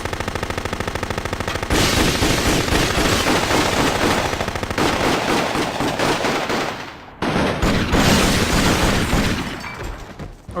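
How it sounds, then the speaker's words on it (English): Sustained bursts of rapid automatic gunfire in the video game Jet Li's Rise To Honor rattle loudly in long stretches, with brief pauses and a sudden dropout between volleys. "It wouldn't be a proper final episode if we didn't have a lot of gunfire."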